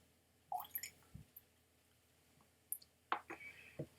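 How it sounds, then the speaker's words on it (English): Half a spoon of water poured into a high-strength whisky, heard as a few faint, scattered drips and small splashes with long quiet gaps between them. "If I add some water, I'm going to give it half a spoon."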